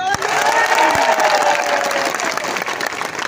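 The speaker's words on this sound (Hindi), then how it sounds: "हम लोग सब एक बार ताली मारे उनके लिए" Political rally audience clapping for new party members at a chief minister's campaign program, a loud, full round of applause with some cheering, a voice briefly heard at the start.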